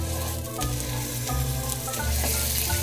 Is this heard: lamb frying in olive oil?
yes